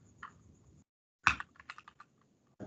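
Quick typing on a computer keyboard, a short burst of distinct close clicks after a faint earlier tap, with a few more keystrokes at the end.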